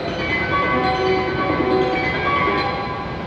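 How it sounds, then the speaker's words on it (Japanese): A departure melody rings on a Hokuriku Shinkansen platform at Kanazawa Station beside a W7 series train, a loud bright chiming tune of sustained tones over the reverberant hum of the station, continuous throughout. "発車ベル止まりますと、ホームの柵と列車のドア閉まります。"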